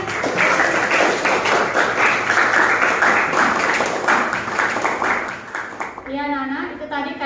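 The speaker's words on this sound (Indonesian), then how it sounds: "Iya, berikan tepuk semuanya." Classroom applause from students during an Islamic religious education lesson, a dense burst of clapping lasting about six seconds. It ends abruptly and a teacher's voice takes over.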